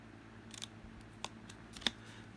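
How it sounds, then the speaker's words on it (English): Scissors snip paper while cutting a banner. A few faint, short, crisp snips come at uneven intervals over a quiet background. "So I'm going to snip up the centre,"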